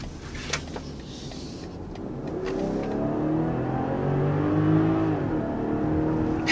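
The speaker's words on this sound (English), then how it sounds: "there's a quick jolt of acceleration in this X5" A 2023 BMW X5 SUV with a mild hybrid system accelerates, its engine rising in a smooth, steady climbing drone heard from inside the cabin after a few faint clicks.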